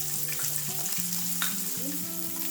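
Chopped onions frying in a kadhai with cloves, peppercorns and a cinnamon stick, a steady close sizzle with stirring underneath and a tonal hum running throughout.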